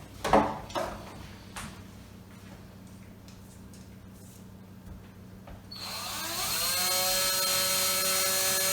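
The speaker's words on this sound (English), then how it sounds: "So stage one, drill the hole." A power drill bores a pilot hole into a motorhome diesel tank, starting with a few knocks and clicks and then spinning up into a steady high whining drone that holds loud and close.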